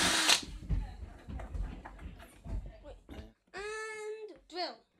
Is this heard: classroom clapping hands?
no